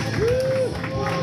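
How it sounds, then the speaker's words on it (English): A comedy club audience applauds a comedian, a brief burst of steady clapping and crowd noise with a single cheering voice rising through it. "Big round of applause for Cooper Lee."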